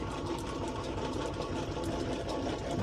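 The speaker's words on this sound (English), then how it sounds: "this lathe, despite the fact that it's so old, does have auto feed in both directions, X and Y" An old metal lathe with auto feed running, a steady close mechanical drone with a quick rhythmic clatter of gears, moderately loud and uninterrupted, with no voices.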